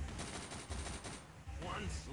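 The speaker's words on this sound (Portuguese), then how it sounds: "Olha o tanto de tiro que ela dá, velho." Machine gun fire in the zombie shooter Unkilled, a dense rattling burst of rapid shots that keeps up almost without pause, loud and close, with a brief dip in the middle.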